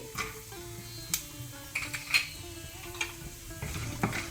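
Peanuts, cashews, urad dal and chana dal fry in ghee for ghee poha, giving a soft, steady sizzle dotted with light clicks and scrapes of a spoon against the pan.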